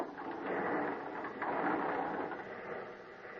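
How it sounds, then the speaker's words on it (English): A heavy sliding door is rolled open as a radio drama sound effect, giving a long, even rumbling scrape that swells and eases for several seconds, faint and on its own. "At the top, I had to open a heavy sliding door."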